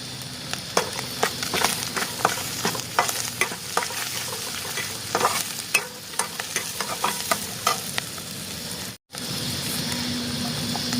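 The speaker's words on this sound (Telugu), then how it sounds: "అల్లం వెల్లుల్లిపాయ దోరగా వేయించుకున్నాం కదా, అలాగే ఉల్లిపాయలు కూడా ఆఫ్ వేసుకుంటున్నాను." Onions are added to ginger and garlic frying in a pan for mutton keema curry, a steady sizzle broken by repeated scraping stirs, with one brief dropout near the end.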